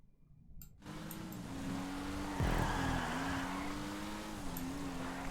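A race car engine in the video game Grand Theft Auto drones steadily with a droning hum that climbs and shifts pitch, a brief skid or whoosh in the middle, loud and continuous throughout.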